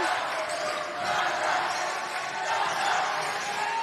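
Western Australia supporters at a netball semi-final roar steadily in an indoor arena, a continuous dense crowd noise with ball bounces and faint commentary underneath.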